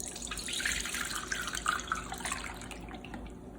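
Basil vinegar pours and splashes steadily from a jar into a container for a few seconds, close by, then tapers off.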